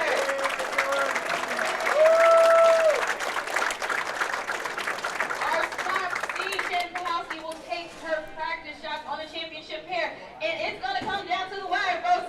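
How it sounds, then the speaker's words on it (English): An audience at a women's professional bowling finals event applauds, the clapping strongest early on and fading into crowd noise with music and talk over the lanes in the latter half. "Give them ladies a huge round of applause"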